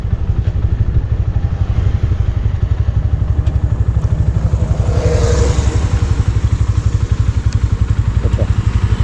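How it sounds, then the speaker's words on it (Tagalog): Many motorcycles run together at a birthday celebration gathering, a dense, loud, continuous engine rumble with steady throbbing and occasional revs, close by. "Ang daming motor."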